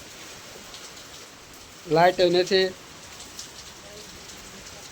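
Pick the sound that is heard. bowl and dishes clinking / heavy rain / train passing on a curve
heavy rain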